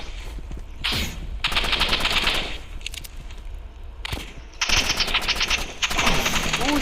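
Rapid automatic gunfire in the Roblox game Rivals comes in several loud bursts of crackling shots separated by short pauses, with faint game background between.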